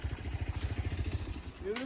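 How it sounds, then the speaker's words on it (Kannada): Motorcycle engine on an off-road trail, revving in a steady pulsing rhythm at close range, with a rising whine near the end. "ಸ್ವಲ್ಪ ರೇವ್ ಮಾಡಿ ಅಗ್ರೆಸಿವ್ ಆಗಿ."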